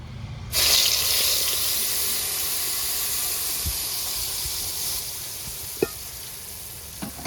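Jackfruit paste dropped into hot ghee with fried coconut bits and cashews, bursting into a loud, steady sizzle that carries on close up, with a few light utensil taps and no talk.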